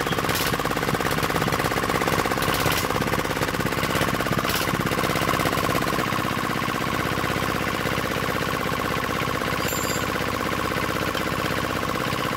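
A D10 engine runs while being tuned, a dense, rapid mechanical clatter and knocking at moderate level throughout, with a few sharp bursts early on and no talk.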